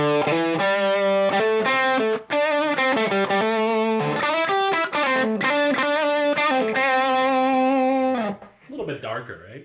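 Electric guitar through a Boss DS-1 distortion pedal with the tone knob all the way down, thick, darker distorted chords and held notes played close and loud, fading into a quieter scratchy tail at the end.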